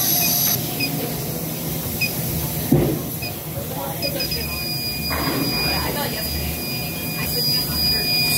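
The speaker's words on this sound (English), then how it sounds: "Now I'm purging nitrogen completely through the system." Nitrogen purging through a refrigeration cooler system, a continuous broad hiss and rush throughout, fairly loud and close, with a brief clank partway through.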